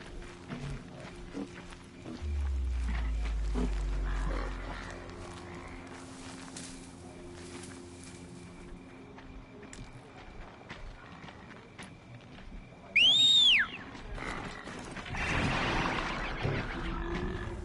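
Robotic machine creatures in Horizon Zero Dawn growl and grunt amid hoofbeats and mechanical noise, with a deep rumble early on and a sharp sweeping screech later, all fairly close.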